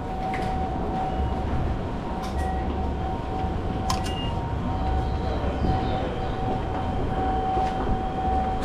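A Japanese metro express train rumbles steadily past, a continuous loud roar with a sustained tonal whine and occasional sharp clicks of the rails.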